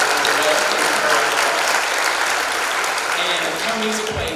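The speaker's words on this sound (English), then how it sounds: "Please give her a round of applause." Steady crowd applause at a Sardis High School graduation, a dense wash of clapping that holds throughout at moderate volume, with faint voices underneath.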